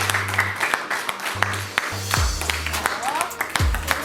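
A classroom breaks into brief applause, a short patter of clapping from a group of students that rises and fades under a teacher's speech.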